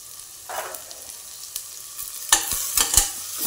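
Onion and tomato sautéing in oil in a pan, a soft sizzle punctuated by a few sharp scraping stirs near the end, close and fairly quiet with no talk.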